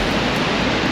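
Niagara Falls in Canada, water crashing down in a loud, dense, continuous roar heard up close with no other sounds.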